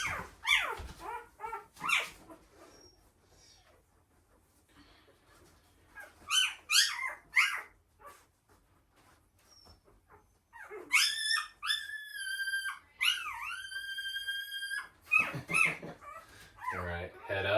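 Week-old bird dog puppies, young hunting dogs, whimpering and squeaking in bursts of high, wavering cries, close by, with quiet gaps between them and a sustained run of squeals toward the end.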